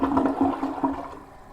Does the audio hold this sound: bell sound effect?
no